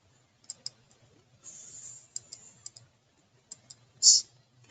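Quiet, close clicks and ticks from a computer mouse and keyboard come in a scattered rhythm, with one brighter, louder click near the end.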